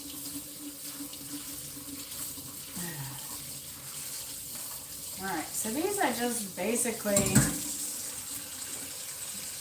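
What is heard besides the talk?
water running from a tap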